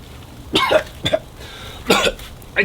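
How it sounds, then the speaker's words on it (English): A person coughs from smoke close up in several rough bursts, a pair and then another cough, with quiet pauses between, while smoke-roasting pork knuckles. "not the coronavirus cough, it's the smoke cough"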